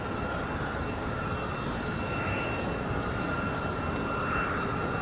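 An airliner landing at night at Raleigh Durham International Airport gives a steady, loud engine roar with a thin whining tone over it, a constant drone with no talk.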